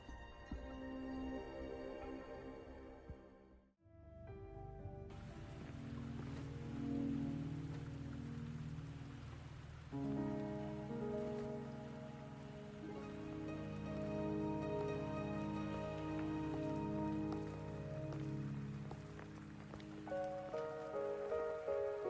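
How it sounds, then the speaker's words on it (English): Steady rain pours down in the video game Wuthering Waves, a dense, even hiss that drops out for a moment early on, then returns under sustained musical tones with no voices. "Are you trapped here by the rain?"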